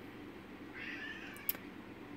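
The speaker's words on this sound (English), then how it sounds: "Sorry about kitties in the background" Several house cats meow in the background of a home kitchen, a drawn-out meow rising in the middle with a brief sharp click near its end, faint against low room noise and no talk.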